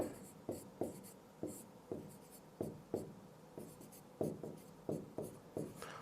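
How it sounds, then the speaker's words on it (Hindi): Pen writing a name on a surface, a quiet series of short scratchy strokes in irregular rhythm, close and alone. "मैं नाम लिखता हूं तो उनका"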